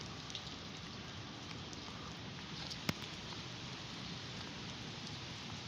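Steady, dense typhoon rain hisses and patters continuously in Taguig City, with one sharp tap standing out midway; no voices.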